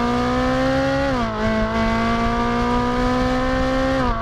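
A Ferrari 458 Italia engine holds a steady, loud drone throughout, with a brief dip in pitch partway, idling or revving gently.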